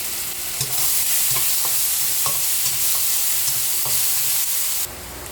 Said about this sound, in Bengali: এই যে পেঁয়াজ ভাজা হইয়া গেছে, এখানে আছে আদা রসুন দিয়ে দিলাম